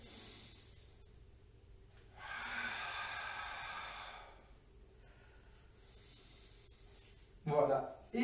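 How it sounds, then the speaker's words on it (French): Long, airy breaths during a Pilates exercise, a soft sustained exhale followed by another, with a brief louder voiced sound near the end, close and faint. "je souffle, je monte et j'inspire, je redescends"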